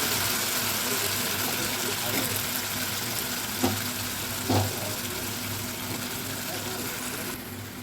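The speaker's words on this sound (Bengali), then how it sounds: "আর ভেজে রাখা আলুগুলো এই পর্যায়ে আমি অ্যাড করবো, আঁচটা কমিয়ে।" Fried potatoes tumbling into a spice masala in a pan over lowered heat, a steady broad sizzle and watery hiss running throughout with a couple of brief knocks as pieces go in.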